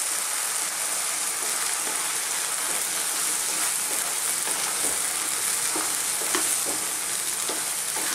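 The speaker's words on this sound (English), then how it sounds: "I'm going to let this go now on a kind of, just above a simmer, not a complete simmer, just above." Chickpea spinach curry with canned chickpeas bubbling gently in a pot just above a simmer, a soft continuous sizzling hiss with faint scattered pops and light stirring sounds, no voices.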